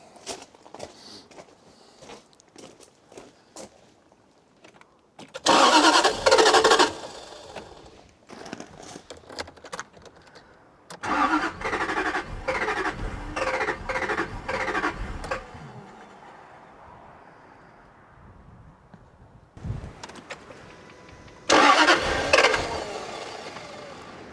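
A Jaguar XK8 engine cranks in several long, loud bursts with quieter gaps between, sputtering and catching briefly without fully starting, with half the engine disabled amid a suspected voltage issue.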